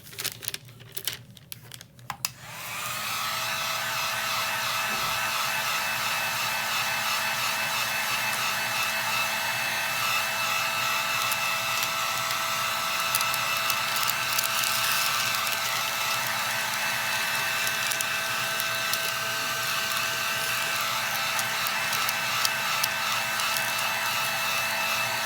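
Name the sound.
heat gun shrinking wrap on tumbler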